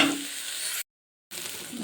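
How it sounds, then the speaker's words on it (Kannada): A small chopped tomato frying in a pan for rasam, giving a close, even sizzle that cuts out for a brief gap midway and then resumes. "ಇದೊಂದು ಚಿಕ್ಕ ಟೊಮೊಟೊ ಕಟ್ ಮಾಡ್ಕೊಂಡಿದ್ದೆ, ಅದು ಹಾಕ್ತಾಯಿದ್ದೀನಿ. ಒಂದು 2 ನಿಮಿಷ ಫ್ರೈ ಆದರೆ ಸಾಕು."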